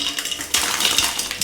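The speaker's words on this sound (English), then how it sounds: "We're gonna make an ice bath." Water splashes and clinks in a bowl while an ice bath is made in a kitchen for chilling an ice cream base, short sloshes and knocks against the bowl, close and moderately loud.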